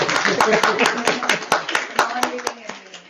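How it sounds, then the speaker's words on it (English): A small audience at an ISKCON Seattle Bhagavad Gita talk gives a short round of clapping, with distinct sharp claps in a quick, uneven rhythm that thins out near the end, close and fairly loud. "Give a big round of applause to her."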